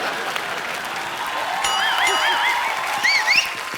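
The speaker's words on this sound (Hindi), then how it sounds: "मोमो के धागे की स्टार कास्ट के लिए तालियां।" Studio audience applause on a Hindi comedy talk show, a loud burst of clapping that swells and holds steady, with brief whistles and cheers rising over it near the end.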